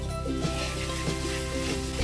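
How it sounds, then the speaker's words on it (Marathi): Whole spices tempering in hot oil for Kathiyavadi undhiyu give a steady sizzle with light crackles and soft stirring scrapes, close and continuous, with no voices. "फोडणी तडतडली की गॅस बंद करायचा आहे"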